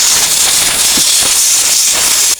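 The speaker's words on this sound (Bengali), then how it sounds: "ডালটা আমি মোটা নিয়েছি, এই জন্য একবারে সেদ্ধ হবে না, প্রেসার কুকারে দিয়ে সেদ্ধ করে নেব।" A pressure cooker cooking thick lentils releases steam in a loud, continuous close hiss that cuts off abruptly at the end, with no talk.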